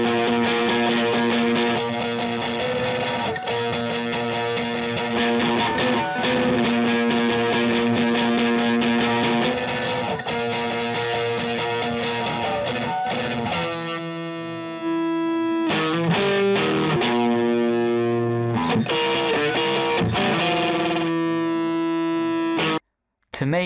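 Distorted multitrack guitar audio plays continuously while a phase-alignment plugin is switched in and out, the fullness of the tone shifting in places, with a brief dropout near the end.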